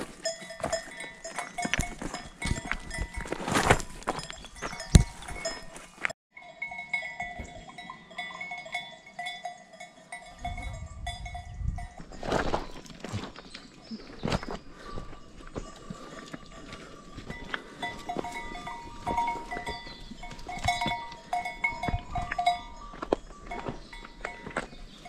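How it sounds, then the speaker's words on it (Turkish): A herd of goats wearing bells moves along a trail on a spring hike, clanking bells ringing continuously with bleats and shuffling hooves, close and steady throughout, no talk. "Keçilerin arkasındayım ben."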